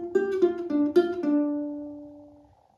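A ukulele plays a short improvised melodic phrase, a few plucked notes ending on a held note that slowly fades, then a new note strikes right at the end.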